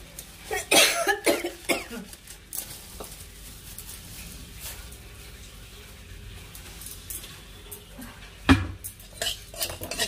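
Fennel seeds briefly stirred in a hot pan, a utensil scraping and clinking against the metal in scattered bursts, with louder clatters near the start and again toward the end, plus a cough-like throat noise.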